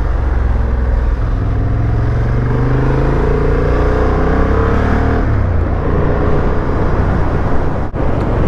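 A Honda Hornet 750 motorcycle on the road, heard from the rider's position as a loud, constant engine drone with rising and falling gear-change tones mixed with heavy wind noise throughout.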